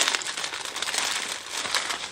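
Thin plastic packaging around a pair of gloves crinkles and rustles steadily for about two seconds, a close, busy crackling with no talk over it.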